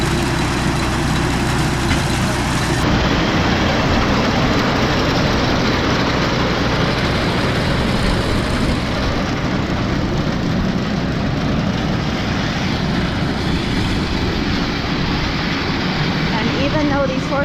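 A loud engine drones steadily on a horse-drawn corn picking machine working a field, a constant low rumble with no breaks from start to end.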